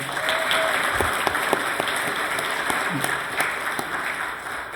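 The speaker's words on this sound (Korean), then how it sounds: "우리 좀 박수 좀 크게 쳤으면 좋겠는데." A Sunday worship congregation claps loudly for the church choir, a continuous wash of applause with a few sharper individual claps standing out near the front.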